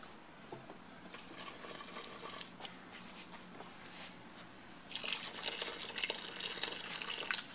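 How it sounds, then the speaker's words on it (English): Boiling hot milk is poured into a cream puff mix, a soft liquid splashing and trickling that grows fuller and louder partway through, heard close with no talking. "Put the boiling hot lait or milk and pour it into the mix."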